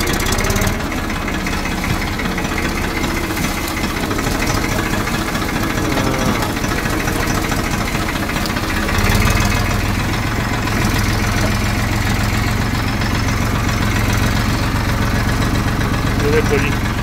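A tractor engine runs steadily after starting and idles loud and close with a low rumbling drone, then shifts into third low gear. A voice talks over the engine.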